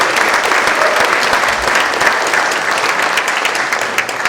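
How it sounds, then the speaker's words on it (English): Sustained applause from an audience, a dense even wash of clapping that holds steady throughout with no talking over it. "one more round of applause for our finalists who presented here today"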